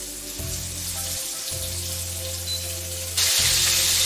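Liver fries in a pan, giving a steady hissing sizzle that jumps louder near the end, under a low background hum.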